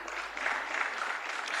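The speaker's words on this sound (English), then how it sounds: "let's clap hands for him" Audience applause at a masterclass event, a short, soft, steady patter of clapping hands with no voices.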